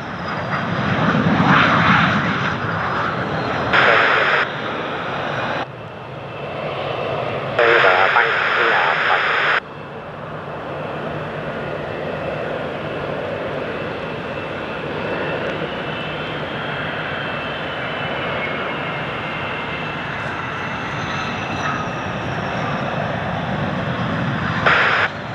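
A steady aircraft engine roar holds throughout as a military jet approaches to land on runway 20, with radio chatter from air traffic control heard over it in the first ten seconds.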